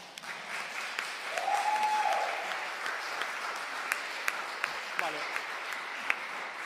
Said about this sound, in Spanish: Simplemente quiero que aplaudáis